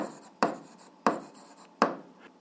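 Pen writing numbers on paper during an algebra exercise, three sharp quick strokes spaced evenly with faint scratching between, close and quiet, with no voice.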